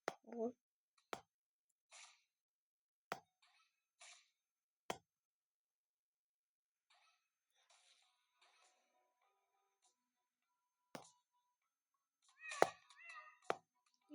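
A cat meows faintly a few times between sparse clicks and soft knocks in an otherwise quiet room, with a louder cluster of meows near the end.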